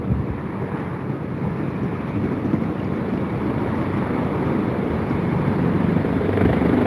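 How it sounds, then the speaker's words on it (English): A helicopter flies over London, a broad, steady rumble that slowly builds in loudness, mixed with wind buffeting the microphone. "There's this helicopter going on."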